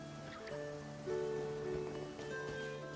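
Rain falling in Genshin Impact, a soft steady patter with a trickling, stream-like wash under low game music and chimes, with no voices.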